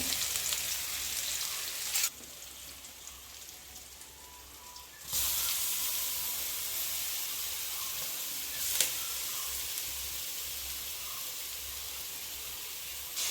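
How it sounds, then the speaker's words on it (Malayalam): Steady, close sizzling of a thick ground spice paste frying in a hot pan for jackfruit puzhukku, the hiss rising and falling in loudness as it is stirred; no one speaks. "ഞാൻ അരപ്പ് തട്ടിയിട്ട് കുറച്ച് നേരം ഇളക്കിയതിന് ശേഷമേ അരപ്പൊന്ന് തോത്തിയെടുക്കും."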